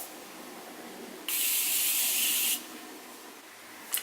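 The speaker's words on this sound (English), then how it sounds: "now to finish everything off, I'm going to go in with my Morphe setting spray" One steady burst of Morphe makeup setting spray, a bright, close hiss lasting about a second against quiet room tone.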